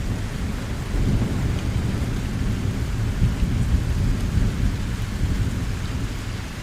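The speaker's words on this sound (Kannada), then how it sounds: "ನೈಟ್ 12 ಗಂಟೆಗೆ ಸ್ಟಾರ್ಟ್ ಆಗಿದ್ದ ಮಳೆ ಮಾರ್ನಿಂಗ್ ಆದರೂ ಇನ್ನೂ ಜಿನುಗ್ತಾನೇ ಇದೆ" Morning rain keeps falling after a night of thunderstorms, a steady, moderately loud wash of drops over a low rolling rumble, continuous and without any voices.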